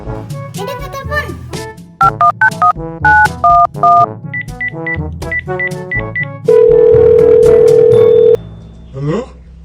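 A telephone call is placed: a series of short electronic dialing beeps, some chirpy tones, then a long steady ringing tone, loud and close over a busy cartoon-style soundtrack.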